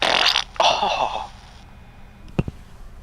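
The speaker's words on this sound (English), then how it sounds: "That was a fart, and then the sound of satisfaction because of that fart." A fart sound effect from an NEC Versa 6230 laptop's customized sound scheme plays loud and close, followed by a quieter sigh of satisfaction and a couple of faint clicks.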